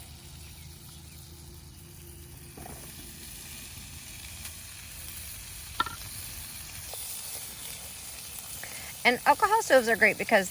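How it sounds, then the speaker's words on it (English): Ham and mushrooms drop into melted butter in a pan on a Trangia alcohol stove, a quiet hiss building into loud, bursting sizzles near the end, with someone talking throughout. "And I'm gonna go ahead and drop in my ham and mushrooms."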